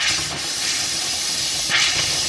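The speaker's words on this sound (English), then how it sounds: "And you can hear the pressure coming out." Pressure hisses out of a caravan hot water tap as the pressurised system vents, a steady broad close hiss with a brief louder surge near the end.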